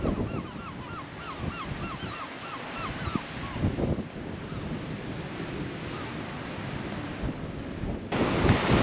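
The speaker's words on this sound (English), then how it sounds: "it's a nice sandy beach to be fair" Surf rolls onto a sandy beach on the Norfolk coast, a continuous wash of waves buffeted by wind noise on the microphone, with a dog barking briefly in the distance early on.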